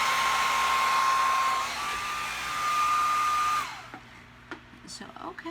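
A hair dryer on its cool setting blows alcohol ink across a ceramic tile, a steady close whirring roar that cuts off after about four seconds, leaving a few faint clicks and rustles.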